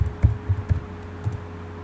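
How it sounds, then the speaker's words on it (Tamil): Someone types a name on a computer keyboard while working in the Java Eclipse editor: a few soft, scattered key clicks, faint and close, with no talking. "ஸோ கார்த்திக் டைப் பண்ணுங்க"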